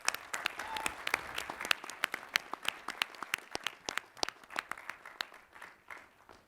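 A university commencement audience applauds newly conferred Doctors of Education and Philosophy, a fairly faint, distant scattering of many hands clapping, with sharp individual claps standing out from the crowd throughout.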